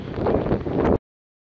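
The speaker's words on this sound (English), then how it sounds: "standing in the wind blowing like that" Wind blows outdoors in a single loud, rough gust that buffets the microphone for about a second and then cuts off abruptly.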